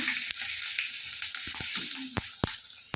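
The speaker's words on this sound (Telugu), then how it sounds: "ఇది కట్ చేస్తూనే పక్కన ఎగ్స్ ఫ్రై చేస్తున్నాను" Eggs fry in hot oil in a pan with a bright, continuous sizzle, punctuated by several sharp crackles and spatters close by.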